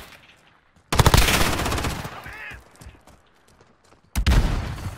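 MP7 submachine gun fire in the video game Modern Warfare: two loud, close automatic bursts, a long one followed after a short quiet gap by a second shorter burst.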